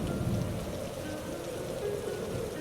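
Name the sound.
heavy rain and storm in an animated story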